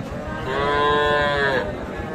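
A single cow or young bull lows once at a busy rural livestock market in Dinajpur, Bangladesh: a loud, close, drawn-out moo rising and falling over about a second, above a constant rumble of crowd noise.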